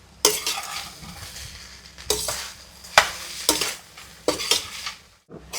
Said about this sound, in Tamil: கிண்டுமா.